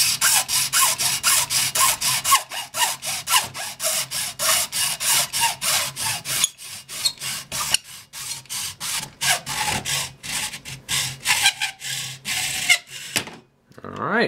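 Plastic casing of a Lego battery pack being cut with a hand tool, a steady run of close, rasping strokes in quick rhythm that keeps going, with a few short pauses near the end.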